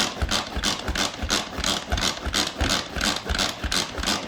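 A hand-powered food chopper is spun to mix egg roll in a bowl ingredients, giving a rapid, steady rhythmic whirring and rattling of plastic pulses, close and alone.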